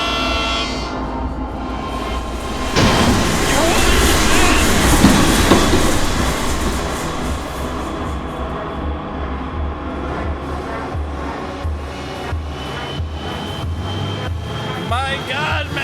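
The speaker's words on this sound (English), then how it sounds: "The train is moving." A moving train in the horror video game Go Home Annie, with a loud rumbling roar that swells suddenly, rhythmic clickety-clack wheel noise and high metallic squeals, while people talk over it.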